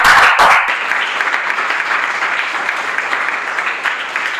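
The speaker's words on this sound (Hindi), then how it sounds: "सबसे पहले तालियां बजाइएगा इजहार अब्बासी" Studio audience applauding a guest on a Pakistani sports talk show, a loud, dense wash of clapping that holds steady for several seconds without speech over it.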